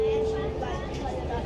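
Driverless automated metro train in motion, resembling a SkyTrain-style light rail, giving a steady close rumble and hum with a brief tonal whine, under talk.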